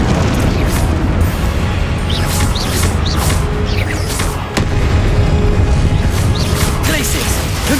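Confringo blast spells going off in the Hogwarts Legacy video game, a dense, loud barrage of booms and crackling bursts running continuously over battle noise with spoken spell incantations mixed in.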